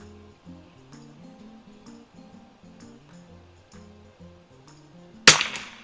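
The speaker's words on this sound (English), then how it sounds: "I am shooting this with Aguila Super Extra." A single loud, sharp rifle shot from a Mossberg 144US military trainer firing Aguila Super Extra ammunition at 50 yards, arriving near the end after steady quiet background sound.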